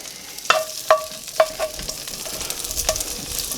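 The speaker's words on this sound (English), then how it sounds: "we're going to add the chorizo. I'm just going to let that cook down just for a few minutes, render some of that fat out," Chorizo fries in a pan on a Kamado Joe grill, rendering its fat. A soft, steady sizzle runs underneath several sharp metallic clinks of a utensil stirring against the pan, with no voices.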